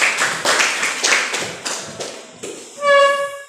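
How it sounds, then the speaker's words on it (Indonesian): A classroom applauds a student with a burst of scattered hand claps that thin out and slow over a few seconds, followed by a brief bright tone at the end. "Kepada Rahmatul kita beri aplaus karena telah menjelaskan"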